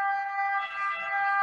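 An ambulance siren passes close by, its loud, steady wailing tones holding throughout with no voices over it.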